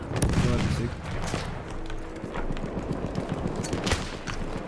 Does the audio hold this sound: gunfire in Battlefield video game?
yes